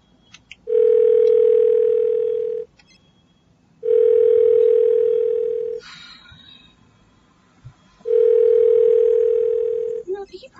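Ringback tone of an outgoing telephone call repeating in three long, steady bursts of about two seconds each with pauses between, loud and clear, with faint background noise in the gaps.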